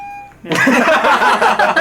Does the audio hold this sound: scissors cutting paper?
no